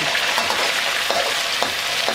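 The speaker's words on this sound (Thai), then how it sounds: "แต่ว่าเราจะทอดไข่ดาวให้สวยนะ" A salted egg sizzles and crackles steadily in a hot pan as it fries, a close, continuous hiss with small pops and no talk.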